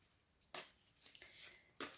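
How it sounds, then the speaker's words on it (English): Tarot cards shuffled by hand, quiet riffling bursts of papery slaps, two sharper ones and softer sliding flutters between them, close and alone. "Either I'm just being a really rubbish shuffler or the cards are excited to be here."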